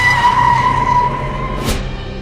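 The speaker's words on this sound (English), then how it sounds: "A car swerved out of control right outside his building" A car swerves out of control, its tires shrieking in a loud, sustained skid with a steady squeal that ends in a sharp burst of noise.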